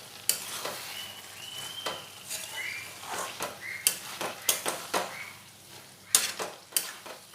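Fried potatoes being stirred and mixed in a frying pan, with a steady close sizzle under irregular scraping and tapping strokes of a spatula against the pan.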